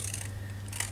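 Paper being cut with scissors for a collage, a few soft snipping crunches over a low steady hum, brief and quiet.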